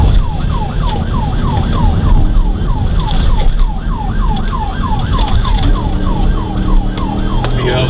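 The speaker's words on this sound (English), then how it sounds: "With their emergency lights and sirens activated, officers began a high-speed pursuit" Police car siren wailing in a rapid, continuous yelp throughout a high-speed pursuit, loud and steady over road and engine rumble.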